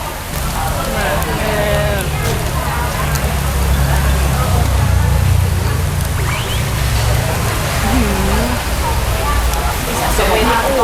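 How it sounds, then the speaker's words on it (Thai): Rain pours steadily at an outdoor Thai pork-grill restaurant, a constant loud hiss running throughout beneath people talking. "วันนี้ฝนตกถ้ามีเสียงฝนขออภัยนะคะ"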